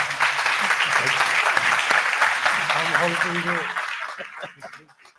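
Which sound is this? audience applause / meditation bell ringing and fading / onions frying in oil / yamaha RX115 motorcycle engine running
audience applause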